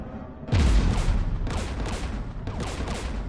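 Gunfire in Mass Effect 3, a dense fusillade of rapid shots in three loud bursts about a second apart, each with a sharp attack and a rolling, echoing tail.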